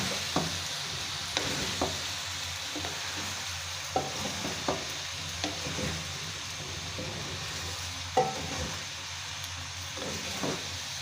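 Macaroni being stirred into a spiced masala in a pan, with a steady sizzle and frying hiss beneath scattered scraping and clinking of the spoon against the pan, close and fairly quiet, with no talking.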